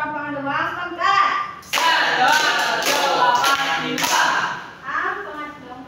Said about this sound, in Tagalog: bigyan ng 5 palakpak ang group 2